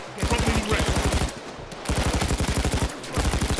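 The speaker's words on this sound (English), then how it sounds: "A fantastically fun light machine gun for close range." Brenner light machine gun firing in the video game Payday 2, loud close sustained automatic bursts of rapid rhythmic shots in three runs separated by short pauses.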